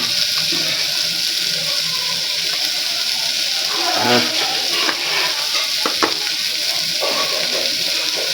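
Chilli sizzles steadily in a little hot oil for khichdi, a dense continuous frying hiss with occasional stirring scrapes and clicks, close and loud throughout.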